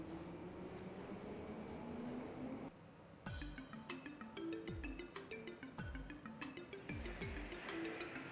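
Train ride in the video game Trails From Zero: a steady rumbling carriage hum, then a brief dip and regular clacking of wheels over rail joints, with repeated rhythmic thumps and a faint chiming tone layered above.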